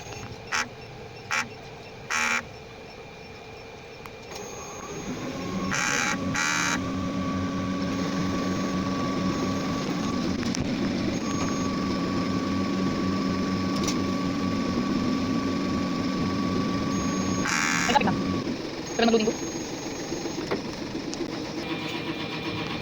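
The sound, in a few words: sublimation printer running a print head clean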